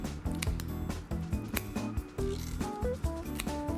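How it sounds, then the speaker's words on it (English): Sharp kitchen scissors snip down the backbone of a raw prawn during paella preparation, giving a series of close, crisp crunching cuts with small handling clicks in between. "using a sharp pair of scissors, cut down the backbone"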